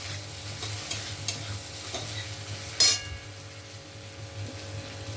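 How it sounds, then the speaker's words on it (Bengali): Carrots fry in a wok with a soft continuous sizzle, punctuated by light stirring scrapes and one sharper clink of utensil against metal. "ফার্স্ট গাজরটাকে আমরা ভাজতে দিলাম কড়ার মধ্যে।"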